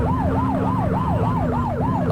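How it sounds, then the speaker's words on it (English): A police car siren wails in The Precinct video game, its repeated rising and falling sweeps pulsing steadily about every third of a second, loud and close over a constant low engine hum with no talk. "Get behind them and blip the siren and make them pull over."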